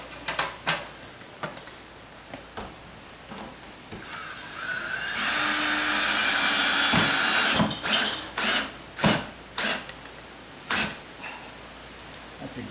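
A 2.5-inch screw is driven into the hinge holes of a rubbing door, with a few seconds of steady power-driver whir in the middle, framed by scattered clicks, taps and knocks of handling.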